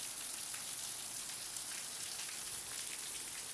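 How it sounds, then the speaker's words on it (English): Heavy rain pours down steadily outdoors, a dense, even hiss of drops hitting surfaces throughout with no voices. "And it is raining hard right now."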